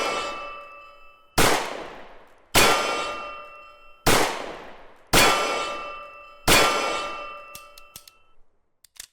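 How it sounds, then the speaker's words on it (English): In the video game H3VR, five sharp metallic clangs of .44 Magnum bullets hitting a steel dueling tree target ring out at steady intervals, each followed by a long bright ringing decay, then a few faint clicks at the end. "a dueling tree target. Absolutely love the sound of this."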